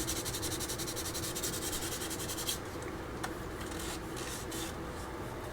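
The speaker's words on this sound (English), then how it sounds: "This is just like 3000 grit sandpaper" Model putty on a 1/48 Zvezda Su-57 kit is rubbed with 3000 grit sandpaper, a close, quiet rhythmic scratchy rasp that stops partway, leaving faint brief scuffs.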